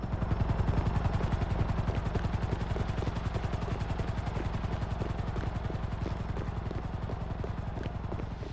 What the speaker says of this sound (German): Oh, ich höre einen Heli.